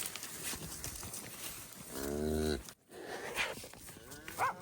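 A single loud, drawn-out cow moo, close by, during fall ranch work in Colorado with herding dogs, heard over faint background noise and followed by a short quiet gap.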